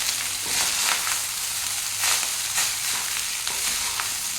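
Rice fries in sunflower oil in a wok with a continuous, close sizzle, punctuated by regular stirring scrapes and soft thumps as the grains are tossed.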